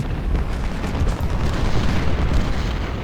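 Sustained rumbling booms roll on from 10-pounder cannons firing at enemy guns in a Civil War battle in Ultimate General: Civil War, a dense, steady, low roar with no pause.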